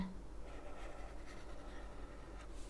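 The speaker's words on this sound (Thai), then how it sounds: "เพราะฉะนั้นเราก็ เขียนเส้นโค้งนะคะ" A curve is drawn in one continuous writing stroke, making a faint, soft scratching close by with slight rhythmic pulses over a quiet background.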